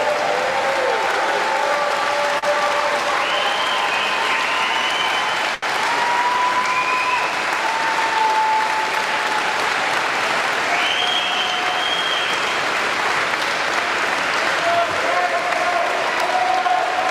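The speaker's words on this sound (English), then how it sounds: "Let's give another big round of applause to Derek Sloan running here" An audience at a political rally in Alberta applauds continuously, a dense sustained wash of clapping with cheers and whistles rising above it throughout.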